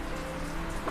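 Steady rain falls outside, a soft continuous patter of drops on surfaces, fairly faint and even throughout with no voices.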